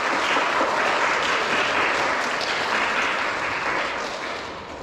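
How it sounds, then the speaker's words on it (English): A school public speaking evening's audience gives a big round of applause, dense and sustained clapping filling the room, holding steady before tapering slightly toward the end. "big round of applause again"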